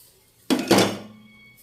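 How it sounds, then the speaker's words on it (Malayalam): A corn flour mixture is stirred quickly into boiling milk in a pan for mango pudding, giving two close, sharp clatters of a utensil against the pan that fade into a quiet ringing tail, with no talking. "നമുക്ക് കോൺ പൊടി ഒഴിച്ച് കൊടുക്കാം. മിക്സ് ചെയ്ത് വെച്ചത് പെട്ടെന്ന് ഇളക്കാം."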